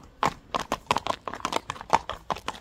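A horse walks slowly, its hooves clopping in a steady, unhurried rhythm close by, about a dozen footfalls over a few seconds with little else heard.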